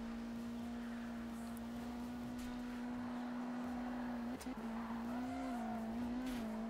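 A car drifts with the handbrake in the racing video game Need for Speed Rivals: a loud, steady engine drone holds while tires squeal and skid, the engine pitch wobbling briefly mid-slide.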